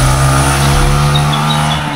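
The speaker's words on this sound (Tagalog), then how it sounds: "Tumatakbo yung motor." A motorcycle engine runs near an old abandoned house in a forest, a loud steady droning rumble with a constant low hum that holds unchanged throughout.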